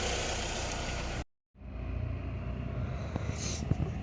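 A car engine runs steadily at low revs as it is driven around the block, a continuous mid-low rumble broken by a short near-silent gap, then resuming with light knocks and a brief higher whine.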